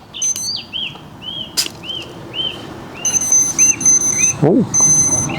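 A series of short, high electronic beeps and chirps from a coaxial RC aircraft's flight controller booting up, some rising in pitch, followed by a sustained tone, over faint background noise and a brief low rumble.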